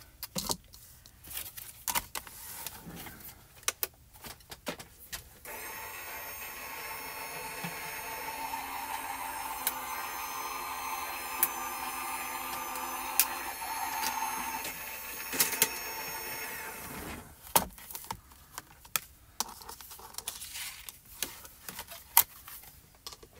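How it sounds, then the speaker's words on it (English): A die cutting machine runs paper taped with a shadow die through its rollers, a steady mechanical whir for about twelve seconds amid small clicks and handling noises before and after. "And we're going to die cut this out."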